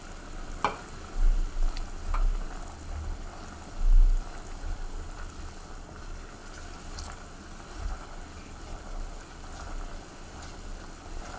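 Chicken adobo sauce, which contains sugar, reduces in a pan on high heat with a soft, steady sizzle and bubbling, broken by a few faint clinks and stirring thuds.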